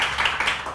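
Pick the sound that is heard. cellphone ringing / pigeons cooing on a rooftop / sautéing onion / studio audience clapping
studio audience clapping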